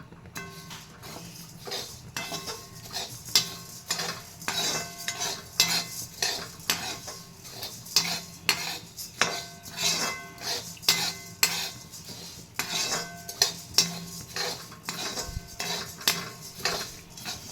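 Coriander seeds dry-roasting in a pan for puliyodarai powder, a spatula scraping and clinking in a regular stirring rhythm with a faint rattle of seeds.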